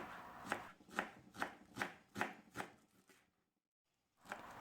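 Knife chopping fresh dill on a board, about six steady rhythmic cuts, close and crisp, then a pause and one more cut.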